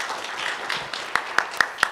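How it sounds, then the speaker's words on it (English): Applause from an audience at a conference session, a diffuse patter of clapping with several sharp, distinct claps standing out near the end, fairly close and moderately loud. "Please give a round of applause as well."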